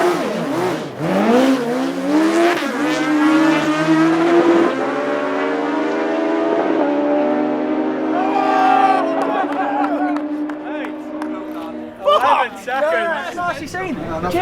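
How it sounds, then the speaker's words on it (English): A twin-engine Mini drag races a tuk-tuk, engines roaring loudly with rising, stepped revs as they accelerate, then fading away before a sharp burst near the end, with crowd chatter and voices mixed in. "Twin engine Mini against the tuk-tuk."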